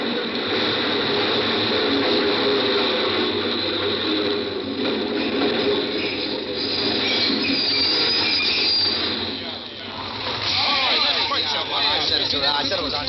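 Subway train rushing into a station in an old radio drama, a loud continuous rumble with squealing wheels and rattling mechanisms, muffled and close, with a voice speaking over it.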